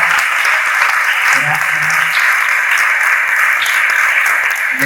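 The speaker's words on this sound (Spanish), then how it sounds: "Le queremos honrar con un fuerte aplauso a nuestros amigos." Loud, steady applause from a church congregation honoring guests, sustained for several seconds with a few faint voices and murmurs mixed into the clapping.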